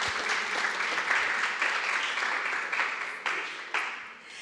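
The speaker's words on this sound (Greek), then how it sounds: "Μπορείτε να χειροκροτήσετε." An audience at a journalism event breaks into sustained applause, dense clapping that holds steady for several seconds before thinning with a few late, louder claps.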